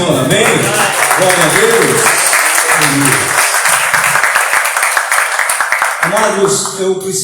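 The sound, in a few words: applause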